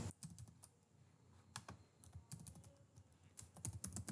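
Typing on a computer keyboard: a steady, close run of quick key clicks and taps with brief pauses, quiet overall, ending in a denser flurry of keystrokes.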